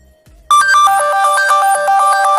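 A phone ringtone triggered remotely through Google Find My Device starts abruptly and rings loud and close, a repeating bright electronic melody that continues without any voices.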